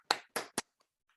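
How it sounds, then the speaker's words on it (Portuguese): Three sharp claps in quick succession, then a couple of faint ticks, close and alone, answering a call for applause for an absent member at a Brazilian association session. "eu peço uma salva de palmas para José Lima Santana"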